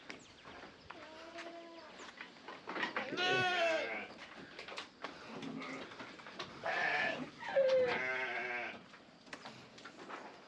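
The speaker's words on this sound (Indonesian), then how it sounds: "Ini dombanya." Sheep bleating in a pen at a hillside campground on Mount Kawi near Malang, with goats kept nearby: several wavering bleats from close up, and a person speaking softly between them.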